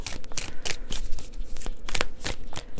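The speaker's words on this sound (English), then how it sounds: "So I'm currently shuffling to get the first set of energies" Tarot cards are shuffled by hand in quick, rhythmic bursts of riffling and slapping, close and clear, with no talking over them.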